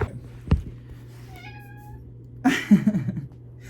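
A domestic cat meows near and clearly, with one short, high meow early on and a longer, wavering meow later, over a low background hum.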